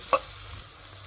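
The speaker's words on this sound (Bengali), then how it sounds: "5 মিনিট থেকে আমি এই চিংড়ি মাছগুলো কষাচ্ছি, মানে ভেজে নিচ্ছি।" Shrimp frying in a pan, a short steady sizzle with a sharp clink of a utensil near the start.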